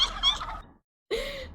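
Turkeys gobble in two bursts, a rapid warbling call, then a brief silence and a second throaty gobble, fairly close and clear.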